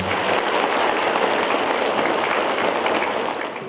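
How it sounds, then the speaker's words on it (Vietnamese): Monks, nuns and lay Buddhists applaud at a Vu Lan Dharma assembly held at a hermitage. The clapping is dense and sustained, then tapers slightly at the end. "cho đại chúng tăng ni và quý phật tử tại tỉnh thất quan âm một tràng pháo tay thật lớn thật dài"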